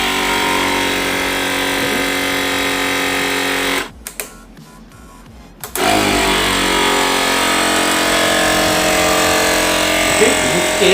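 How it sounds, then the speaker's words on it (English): An air compressor powers a pneumatic bumper car setup, its loud steady motor drone cutting out for about two seconds, then resuming at full strength. "So now I am turning the compressor on"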